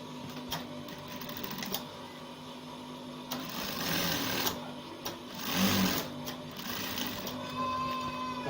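A sewing machine stitches the shoulder seam of a button-down shirt with a notch collar, a steady close mechanical whirring hum that swells and eases as the fabric feeds through.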